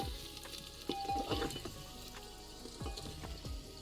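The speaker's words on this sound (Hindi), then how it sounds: "इन सभी इंग्रेडिएंट्स को हम अच्छे से फ्राई करेंगे।" Green chillies and other ingredients fry in a pan with a soft, steady crackling sizzle and occasional stirring scrapes, quiet and close, with no talking.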